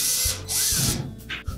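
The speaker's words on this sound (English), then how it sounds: "We'll just put a couple of screws in first, and we make sure that we have all the holes are lined up." Screws driven into a Whirlpool dryer panel during a thermostat repair, short bursts of a whirring power driver and ratcheting clicks, close and loud, with brief pauses between runs.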